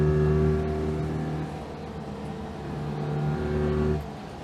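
A modified Citroën 2CV with a 720cc engine drones steadily as it drives a twisty road, its small twin humming loudly and evenly in a high gear with slight shifts in pitch, heard from inside the car.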